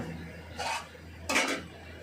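Plates and cutlery clink close by in a home kitchen while rice is served, with two short bursts of clattering against a quiet background.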